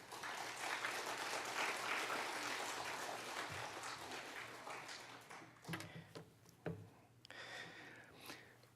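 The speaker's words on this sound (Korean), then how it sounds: "우리 심세영 목사님 나오실 때 큰 박수로 환영해 주시기 바랍니다" A church congregation applauds to welcome the pastor, sustained loud clapping that thins out into a few scattered claps and taps toward the end.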